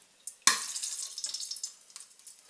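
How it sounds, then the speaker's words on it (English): Hot frying oil is poured from a fry pan into a mixing bowl while cooking glazed walleye, a sudden splash followed by a trickling, sizzling stream that tapers into a few quieter spatters nearby. "very, very carefully you want to pour off that oil and just leave a couple tablespoons behind"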